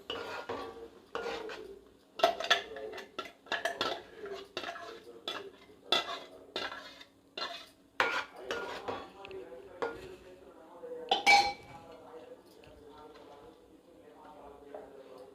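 A tomato, onion and cashew paste is stirred in oil in a pan for a soya chunk curry. A spoon clinks and scrapes against the pot in irregular bursts while a person talks over it.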